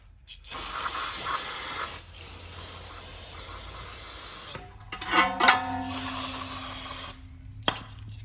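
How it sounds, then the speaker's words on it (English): Brake cleaner sprays from an aerosol can onto the front brakes of a 2017–2022 fifth-generation Honda CR-V, a loud close hiss in long bursts with brief pauses and some clinking of parts in between. "hit it with everybody's favorite chemical, a little brake cleaner"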